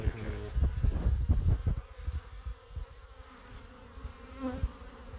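Honey bees hum steadily around an opened hive, a dense, close, continuous buzz with a few louder passes near the start, heard alone without talk.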